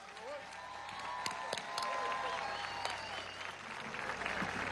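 Dense crowd applause fills a political rally for education missions in the 23 de Enero district, steady and loud throughout, with a voice speaking over the clapping.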